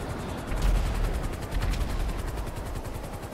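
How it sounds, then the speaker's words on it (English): A helicopter flying in the video game GTA Online, a loud continuous rotor chop with rapid rhythmic thumping and a deep engine roar, steady throughout with no talk. "How come I can fly my helicopter right through it?"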